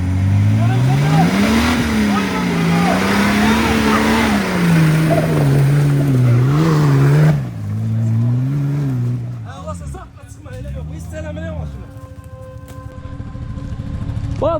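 An off-road SUV engine revs hard while stuck in mud on a forest route in Qars village, Xızı, its pitch rising and falling loudly for several seconds before easing off, with people talking nearby.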